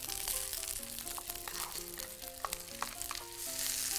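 Vegetables fry in a hot pan for Korean green onion pancake, a bright steady sizzle with light crackles and pops throughout, near and fairly loud.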